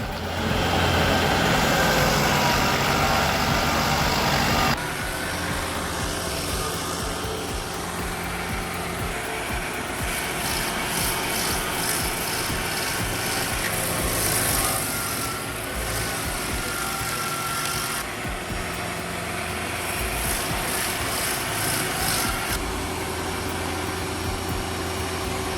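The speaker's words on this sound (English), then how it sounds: "is a powerful stump grinder with a 74 horsepower Kohler diesel engine" A stump grinder powered by a 74 horsepower Kohler diesel engine runs steadily, a loud continuous mechanical drone with rhythmic high whirring bursts in the middle stretch.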